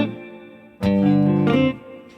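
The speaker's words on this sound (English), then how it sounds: "Grace note hammer-ons sound like this." One electric guitar chord in an R&B style with a fast grace-note hammer-on that almost blends into the attack; the chord rings clean and close for about a second, then fades.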